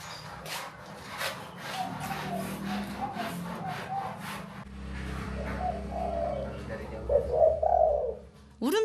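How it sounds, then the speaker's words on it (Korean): Several tame wild pigeons kept inside a house in Indonesia, cooing in soft low repeated phrases beneath nearby talk and household noise, with one louder coo close by near the end. "울음소리 들으니 비둘기 맞죠?"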